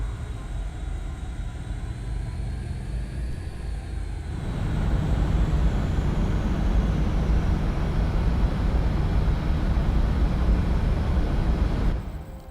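A spacecraft descends and lands on a planet in Osiris: New Dawn, giving a steady engine whine that gives way to a louder, sustained low rumble before cutting off at the end.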